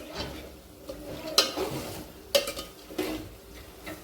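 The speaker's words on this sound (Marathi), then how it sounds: "सगळी मटकी आपण याच्यात टाकून घेतलेली आहे. एकदा छान मिक्स करून घ्यायचं आहे." Sprouted moth beans (matki) stirred in masala in a pan, a spatula clinking and scraping the metal in several sharp strokes with soft shuffling of the beans between them.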